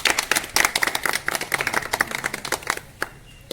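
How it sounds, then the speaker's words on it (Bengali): Audience applause at a free medical camp welcome ceremony, a dense patter of many hands clapping steadily for several seconds before thinning out near the end. "হাততালি।"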